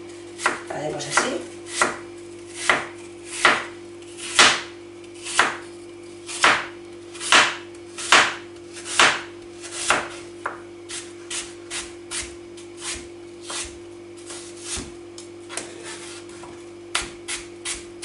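A knife slicing an apple as thinly as possible on a cutting board for an apple cake, steady repeated chops close by, about two dozen crisp strokes in an even rhythm, with a low steady hum in the background.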